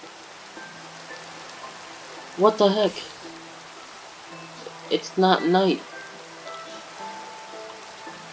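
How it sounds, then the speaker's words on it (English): Steady rainfall in the blocky survival game Minecraft, a soft constant hiss running throughout, with a person talking over it in two short bursts. "It's only raining."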